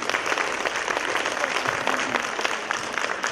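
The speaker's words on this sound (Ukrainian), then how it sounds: "Молодець, Клярико, бурхливі тобі оплески." Audience applause at a children's performance, dense steady clapping at a moderate level filling the whole moment with no one speaking over it.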